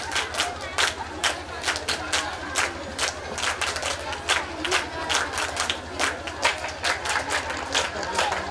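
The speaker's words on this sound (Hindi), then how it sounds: "तो बच्चों के लिए जोरदार तालियां बजाइए" Applause from an event audience for children performing at a school academy's foundation day, steady rhythmic clapping with scattered louder claps sustained throughout, fairly close and alone without talk.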